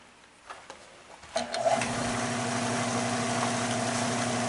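A wood lathe spins up with a few clunks before settling into a steady motor hum with tonal whine as it turns a cherry bowl at 700 RPM, close and continuous.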